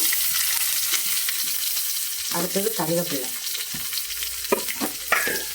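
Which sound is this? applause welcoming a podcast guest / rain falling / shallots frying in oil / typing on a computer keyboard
shallots frying in oil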